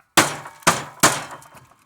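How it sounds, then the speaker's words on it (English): Three sharp metallic hammer strikes on a wire connector while stripping down an air conditioner part, evenly spaced about half a second apart, each ringing briefly before fading, loud and close with no talking. "I like hitting things with a hammer."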